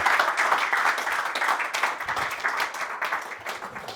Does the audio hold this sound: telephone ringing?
no